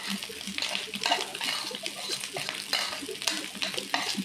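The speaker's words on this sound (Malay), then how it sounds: "Sekarang kacau saja sampai sepati semua bahan tu dicampur." Fried rice with fishballs being stirred in a pan, a continuous scraping and sizzling clatter of spatula on metal, close and busy throughout.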